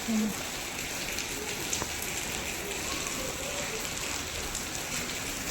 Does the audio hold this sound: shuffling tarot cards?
no